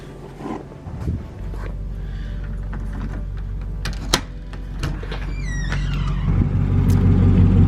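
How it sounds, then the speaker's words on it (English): A pickup truck's engine idles on a freezing morning with a steady low rumble, broken early by door thuds and small clunks, then swells slightly louder near the end. "I actually had to crank the truck up this morning"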